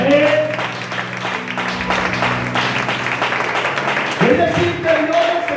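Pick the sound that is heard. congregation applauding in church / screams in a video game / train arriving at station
congregation applauding in church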